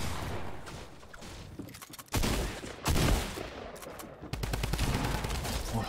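Weapon fire in Fortnite, heard as loud, rapid bursts of automatic gunfire with abrupt starts and stops, a brief lull, then renewed sustained shooting close by.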